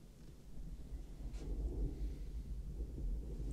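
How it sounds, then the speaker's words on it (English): Low, rolling thunder from a film scene, a continuous distant rumble swelling through the middle and holding steady, with no music or voices over it. "You could just hear silence and thunder in the background."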